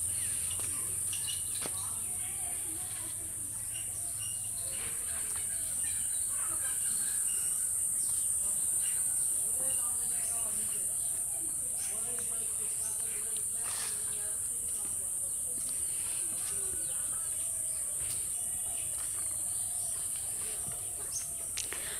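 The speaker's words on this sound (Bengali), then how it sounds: "ঝিঝি পোকার শব্দ পাইতেছেন, দেখেন কত সুন্দর।" Crickets trill in a continuous high chorus around a green rural village, with faint distant bird and rooster calls and scattered small noises.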